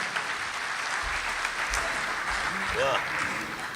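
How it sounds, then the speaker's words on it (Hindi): Sustained audience applause at a mushaira in Ichalkaranji welcoming a poet, a dense steady wash of clapping throughout with a few low thumps and a brief voice near the end. "पुरजोर तालियों से इस्तकबाल करें जनाब इरफान शाहनूरी साहब।"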